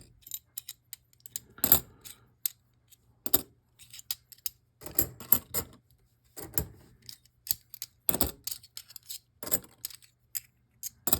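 Coins clatter and drop in bursts during a coin roll hunt, sharp metallic clinks and jingles in scattered clusters separated by short quiet gaps, close and fairly faint.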